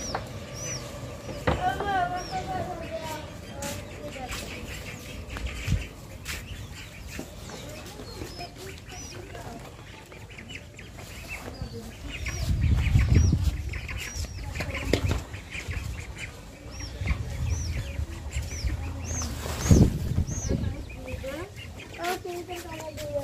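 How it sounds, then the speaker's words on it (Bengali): Ducks and pigeons in a village yard at feeding time, with wings flapping and soft quacks and coos carrying on steadily, while a person talks over them. "এই হাঁস কবুতর ওদের আগে খাবার দিতে হয়"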